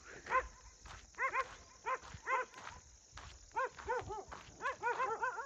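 Several village dogs bark in repeated bursts outdoors, sharp rising yelps in quick clusters separated by brief pauses, moderately close and fairly loud.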